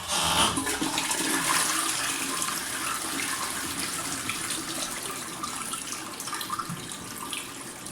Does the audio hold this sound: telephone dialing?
no